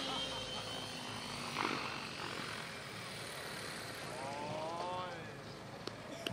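A radio-controlled 700 E-TXC helicopter flies at a 2015 model meet in Selänpää, a steady, moderately distant rotor and motor drone with a rising whine near the end and faint background voices.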